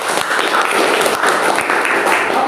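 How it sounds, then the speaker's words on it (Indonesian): A classroom of students applauds together, dense and fairly loud clapping close by, continuous with slight swells and faint voices mixed in. "Oke, betul, tepuk tangan."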